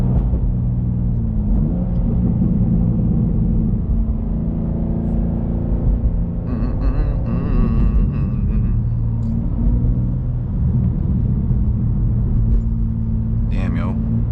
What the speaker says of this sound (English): Back in the traffic shit.